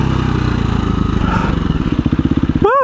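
A 2017 KTM 350 EXC-f dirt bike is ridden hard through sand, its loud, close single-cylinder engine revving and then chopping into rapid pulsing bursts before cutting off abruptly near the end.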